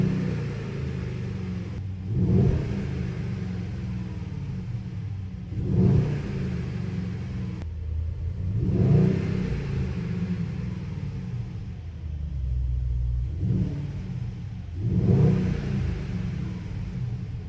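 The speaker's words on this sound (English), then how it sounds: "Now let's listen to the V8 of this." Mercedes-AMG GLE63 S Coupe V8 heard from inside, a steady engine rumble swelling into several repeated revs roughly every few seconds, moderately loud with no talking.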